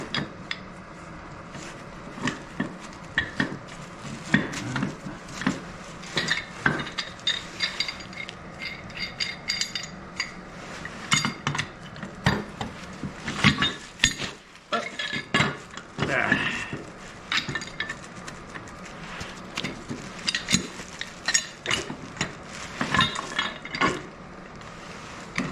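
A tool clamped in its jaws on a leaking gas line pipe is cranked by hand, giving close irregular metallic ratcheting clicks and clanks in uneven bursts over a quiet background.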